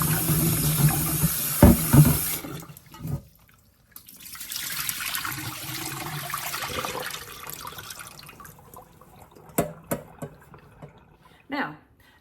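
Water runs from a tap while garden beets and carrots are washed, a steady splashing flow that stops and starts, with a few knocks and a voice speaking early on.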